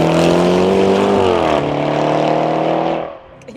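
A Range Rover Sport SUV's powerful engine roars loudly as it accelerates, its deep tone climbing, shifting gear, then dropping away sharply.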